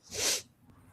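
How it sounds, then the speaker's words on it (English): A single short, sharp human sneeze bursts out close and clear, then fades into quiet. "I'm about to sneeze."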